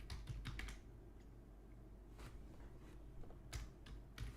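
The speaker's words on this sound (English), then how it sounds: "all I'm doing is typing with my mouse" Computer keyboard typing during online work, quick clusters of sharp clicks near the start, around 2.2 seconds and again near 3.5 and 4.3 seconds, with pauses between bursts, close and moderately loud over a steady low hum.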